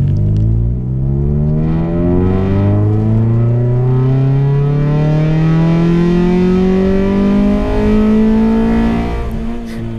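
Car with a new exhaust downpipe accelerating hard, engine note rising steadily through a long pull with strong harmonic growl, loud and close, no voices.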